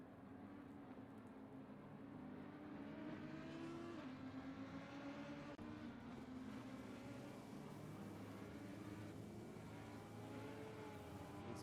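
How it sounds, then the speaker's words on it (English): GT3 race cars in a racing video game roll slowly around the Kyalami circuit on a pace lap, their engines a low steady drone with gentle rises in pitch from several cars at a distance. "these guys do drive around on a pace lap here tonight"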